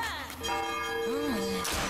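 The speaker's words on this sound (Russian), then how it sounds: "Они еще и в колокол зазвонили." A church bell rings in LEGO Fortnite, its long tonal strikes ringing and overlapping with a sustained resonant hum for under two seconds, with game background sound beneath.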